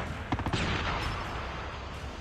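R9-0 shotgun firing in the mobile game COD Mobile, a quick burst of sharp blasts near the start followed by a lingering rumble of game noise.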